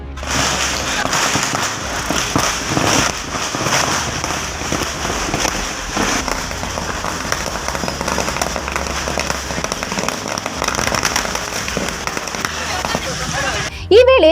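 Firecrackers burst during a BJP and JD(S) victory celebration at Valmiki Circle in Challakere town, giving a dense, continuous crackling roar with scattered sharp pops. Voices of the crowd sit underneath.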